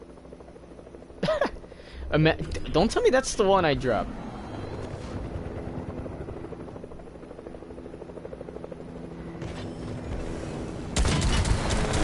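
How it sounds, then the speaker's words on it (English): A helicopter's steady rotor drone hums throughout a Fortnite match, with bursts of gunfire and a voice talking over it early on. "I can hear a helicopter."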